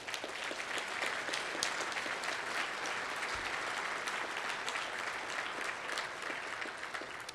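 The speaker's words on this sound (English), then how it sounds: "That is also worthy of more applause." Sustained applause from diners at a 2015 fundraising dinner, a thick wash of many hands clapping at once, steady and moderately distant with no one speaking over it.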